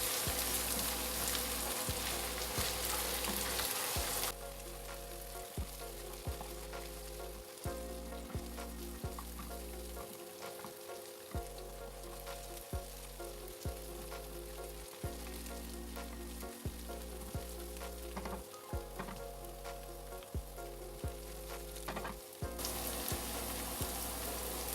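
Crushed ginger and garlic sautéing in a hot pan, a continuous close sizzle with repeated stirring clatters throughout.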